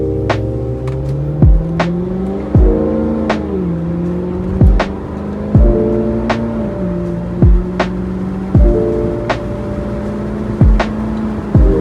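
A Chevrolet Corvette Z06 engine drones steadily from the driver's seat, pitch climbing and falling through repeated gear changes, with sharp pops and clicks punctuating each shift.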